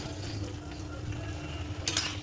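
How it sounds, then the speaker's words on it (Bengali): Fried paneer and soya chunks are stirred into a sizzling spice masala, giving a soft, steady frying hiss with a quick utensil clink near the end, faint and close. "আগের থেকে ভেজে রাখা পনির আর সয়াবিন দিয়ে দেবো মশলার মধ্যে।"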